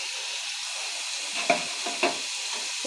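Potatoes fry in oil with turmeric, bay leaf, cumin and dried chilli, giving a steady, fairly loud sizzle with a couple of brief clinks of a spatula against the pan midway through.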